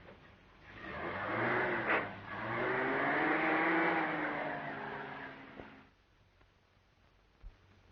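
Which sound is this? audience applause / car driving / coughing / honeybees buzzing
car driving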